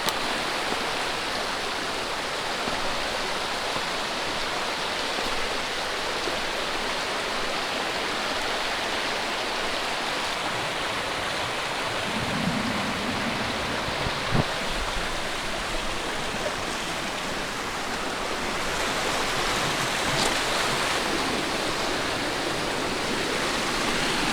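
Steady, broadband rushing of a waterfall fills the whole stretch, a constant roar with no voices and only slight shifts in texture.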